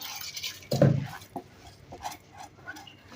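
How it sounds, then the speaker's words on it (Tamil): Washed seeraga samba rice and dal go into a pressure cooker with one dull thump, followed by a few light clinks and scrapes of utensils against metal. "இப்போது குக்கர் வச்சுக்கிறேன் இப்போ இந்த கழுவி க்ளீன் பண்ணி வச்சுருக்க அரிசியும் பருப்பும் போட்டுடலாம்"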